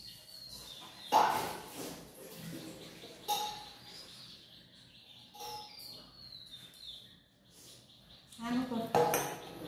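Someone washes a new stainless steel tiffin box, with scattered metallic clinks and clanks against a quiet background, a few sharper knocks standing out, and soft indistinct sounds between them.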